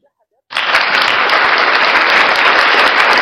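After a moment of silence, loud applause erupts from an audience at a gathering where someone has just recited the two sentences of the shahada, a dense, sustained roar of clapping that carries on unbroken.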